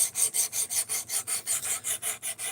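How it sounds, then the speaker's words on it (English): A knife blade drawn repeatedly across the abrasive of a Work Sharp Precision Adjust sharpener set to 17 degrees, about fourteen even rasping strokes in a quick steady rhythm, close and clear. "We are sharpening at an angle, Yams. We're sharpening at 17 degrees."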